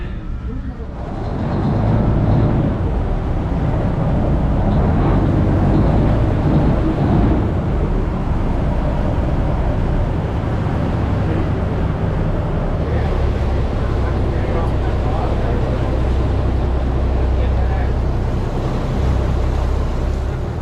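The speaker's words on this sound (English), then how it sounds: "Klong Samsat Taxi Boat is one of the public transport services in Bangkok, operating along the canal" A loud, steady engine roar with rushing water and wind, aboard a fast long-tail taxi boat on Bangkok's Khlong Saen Saep canal; voices faintly mixed in.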